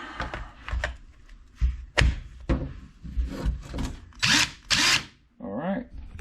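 A DeWalt 1/4-inch impact driver, just fitted with new brushes and an armature, runs in short, rough-sounding bursts of loud whirring. Brief pauses separate the bursts, and light handling noise can be heard between them.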